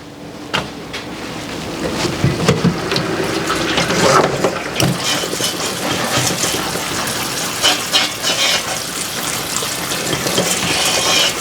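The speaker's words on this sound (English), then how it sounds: "I'm going to run cold water over it just to kind of cool it down very quickly." Cold tap water runs steadily over freshly drained pasta in a kitchen sink, a continuous close splashing and gushing stream with no talk over it.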